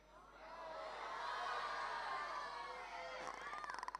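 An audience at a conference hall shouts and screams in unison, a sustained crowd roar that swells and holds for several seconds before breaking into scattered cheers and claps.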